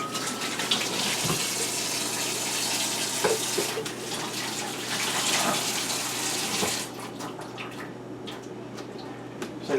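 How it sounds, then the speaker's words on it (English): Faucet water runs steadily into a kitchen sink while hands are rinsed of raw turkey during holiday cooking, a continuous broadband splash that thins and quiets near the end. "Okay, rinse my hands off."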